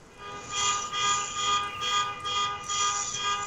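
An alarm blares nearby in a loud, buzzing tone that pulses in rapid repeated bursts without pause.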